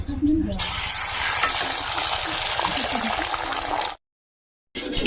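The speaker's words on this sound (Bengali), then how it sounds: "তেলটা গরম হয়ে গেছে অ্যাড করব ডিম" Eggs for an omelette hit hot oil with a sudden loud rushing sizzle that holds steady for a few seconds before cutting off abruptly.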